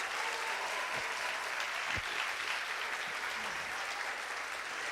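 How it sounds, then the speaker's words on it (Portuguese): A church congregation applauds at a celebration service, a steady wash of clapping held at an even level throughout, with a couple of faint thuds underneath. "Se é para Jesus, você pode aplaudir melhor."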